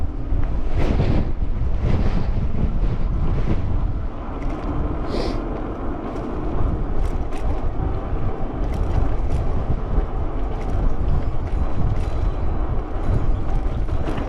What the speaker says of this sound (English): Man, that wind is just whipping, coming up out of the canyon there.